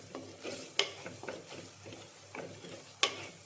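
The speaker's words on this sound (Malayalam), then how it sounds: "ചിക്കൻ മസാലയും മല്ലിപ്പൊടിയും ഇട്ടതിന് ശേഷം നന്നായിട്ടൊന്ന് ഇളക്കുക" A spoon stirs chicken masala and coriander powder frying in a pan for a chicken curry, with soft scraping, a couple of sharp metallic clinks, and a quiet sizzle.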